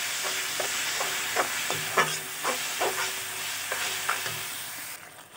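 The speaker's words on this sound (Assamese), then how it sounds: "গোটেই সেইখিনি দি মছলাখিনি এনেকৈ 5 মিনিট সময় ভাজি ল'ম" Spice paste with tomato, cashew and mustard fries in a pan for cauliflower kofta, a steady sizzle broken by regular clinking strokes of a spoon stirring it, close and continuous.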